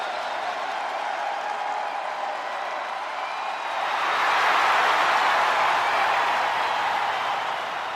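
A steady arena crowd roar in the video game WWE 2K25, a broad wash of cheering that swells in the middle and stays continuous.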